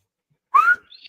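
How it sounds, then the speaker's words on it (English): A rechargeable electronic whistle blown once at a Thanksgiving family game gives a short, loud rising tone, followed by faint higher chirps trailing off. "I charged the whistle up, so it's ready to go."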